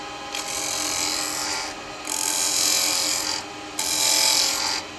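A woodturning lathe hollowing an ash bowl with carbide tools: bursts of hissing, rasping cutting noise as the tool engages the spinning wood, three passes with short lulls between them, close and steady, no talking.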